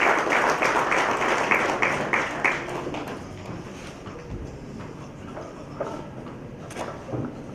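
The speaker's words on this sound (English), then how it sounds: "put your hands together for Father Jegath Gaspar Raj with a big round of applause" An audience breaks into a round of applause to welcome a speaker at an entrepreneurship talk, a dense burst of clapping that is loudest at first and then gradually thins and fades, with a few scattered claps at the end.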